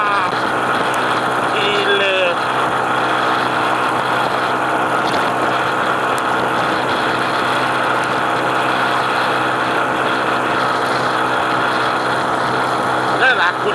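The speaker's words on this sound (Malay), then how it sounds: "Skuter dengan motor Kapcai aku bawa ni" A kapcai underbone motorcycle runs steadily while being ridden, its engine and road noise forming a continuous close drone with brief faint chirps on top.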